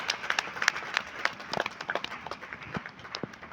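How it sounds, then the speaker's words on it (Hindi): Scattered clapping from a crowd at a multipurpose legal camp in Pantnagar, individual claps standing out in an uneven patter at moderate distance. "तालियां बजाएं, तालियां बजती रहनी चाहिए."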